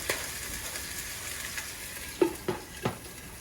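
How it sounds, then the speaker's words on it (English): Chicken sizzles steadily in a covered pan, a constant hiss with a few soft knocks near the end, no voices. "And now I'm just gonna cover it"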